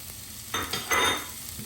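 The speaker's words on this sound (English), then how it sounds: "I'm just going to start sweating those onions" Onions, garlic and carrots sweating in a soup pot, a soft sizzle punctuated by a few short bursts of stirring scrapes, close by and without talk.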